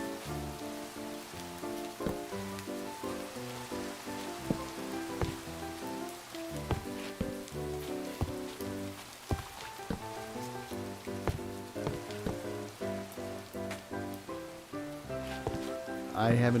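Rain falls in a video game as a steady, soft hiss throughout, under prominent background music and a voice.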